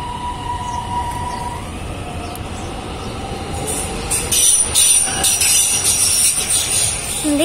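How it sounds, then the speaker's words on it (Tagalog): A train at a station on the line toward Sant Cugat Center keeps up a steady rolling rumble, then piercing wheel squeals rise midway through, loud and close with no talking. "Hindi ko na inabot yung tren."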